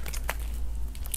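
Biting into crispy pata, a deep-fried pork leg, gives a few faint, close crackly crunches over a low steady hum.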